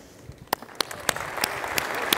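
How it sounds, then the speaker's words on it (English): Keynote audience at Autodesk University 2010 applauding a guest, a steady wash of many hands rising slightly, with a few sharper individual claps standing out, heard from within a large hall. "give a nice round of applause for Zoltan Ferenczi"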